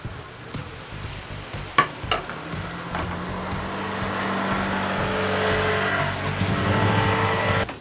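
Dough frying in a pan, a steady sizzle that builds and holds, with a few sharp knocks and clatters of utensils near the start and a low hum underneath.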